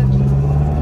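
Close engine drone of a car in motion, heard from inside, a steady low hum with a strong tonal line throughout a brief moment, no rise in pitch evident.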